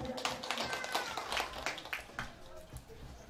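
Guests at a Vietnamese wedding ceremony clap in a loose, scattered burst of applause, with indoor voices murmuring underneath.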